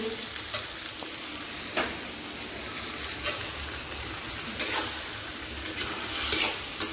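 Meat curry cooking in oil in a pan hisses steadily as a little water goes in, with a continuous sizzle broken by several brief sharper bursts and faint clinks of stirring.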